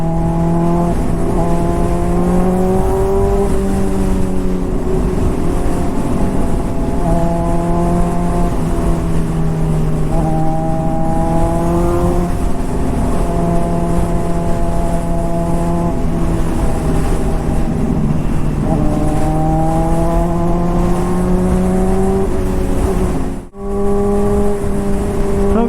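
A Honda CBR600RR sport motorcycle fitted with a new exhaust hums steadily in heavy traffic while lane splitting. Engine pitch rises and falls gently under constant wind noise, with no one speaking.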